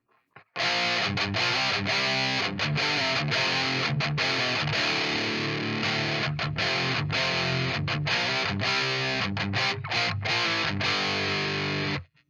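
Heavily distorted electric guitar through an Empress Heavy Menace pedal and a Tube Screamer boost chugs out a steady rhythm riff, loud and dense, with brief palm-muted gaps between chords and no voices.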